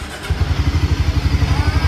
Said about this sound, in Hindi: तो ये कुछ आपको नॉर्मल न्यूट्रल पे ही आपका साउंड है।